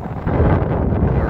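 A strong wind blows on a height in Crimea, roaring and buffeting the microphone in a loud, rumbling gust that swells after a short moment.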